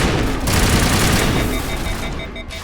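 Rifle gunfire in the video game Mass Effect Legendary Edition, a loud dense rapid volley of shots blending into a continuous roar that tapers slightly toward the end.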